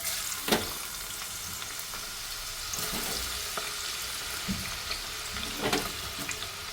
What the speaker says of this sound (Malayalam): നമുക്ക് ഈ സവാള ഒന്ന് പൊരിച്ചെടുക്കാം.